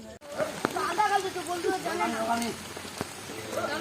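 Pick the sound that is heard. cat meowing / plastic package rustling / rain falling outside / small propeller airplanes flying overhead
rain falling outside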